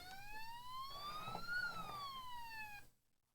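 A Siku toy police boat plays an electronic siren in another mode, a clear wailing tone rising and falling once before cutting off abruptly, close and fairly loud with faint background hiss.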